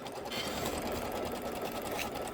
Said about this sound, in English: We're going to sew the strips together.